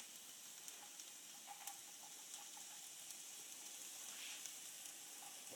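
Shallots and ginger frying on an electric hob, a faint, steady sizzle with small crackles and pops scattered throughout.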